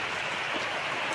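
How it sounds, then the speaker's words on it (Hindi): Steady rain falls outdoors in a village yard, a dense, even hiss of drops with no voices over the short stretch. "बारिश हो रही है, वीडियो बना नहीं पाएंगे।"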